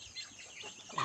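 Soft, low clucking from chickens, quiet and close, with a brief sharper squawk right at the end.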